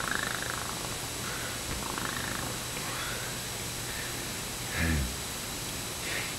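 A cat purrs steadily and close up, a soft continuous rumbling throughout, with a faint rustle near the end.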